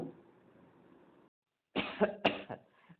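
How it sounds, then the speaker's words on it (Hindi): A man coughs angrily in a dramatized Hindi lesson reading, several harsh coughs in a short burst after a brief pause, close and fairly loud. "भीखू अहीर खांस खांस कर क्रोध प्रकट करता है।"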